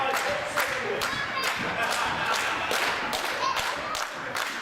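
A wrestling crowd cheers on Kevin Williams during a match, a steady roar of voices punctuated by rhythmic thuds and claps, with faint commentary underneath.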